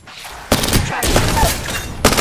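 Apex Legends gunfire bursts out in a few loud, sharp volleys separated by brief gaps, close and dominant with little else beneath.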